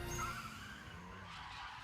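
Animated car race between two Eight-Six cars, tires skidding and squealing as grip gives way: a short, loud screech with engine noise underneath, heard alone.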